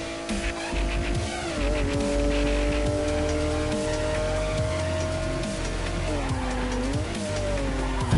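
A car drifting through a corner in the racing game Ridge Racer Unbounded, with steady engine drone and long wavering tire squeal that bends in pitch, continuous and fairly close.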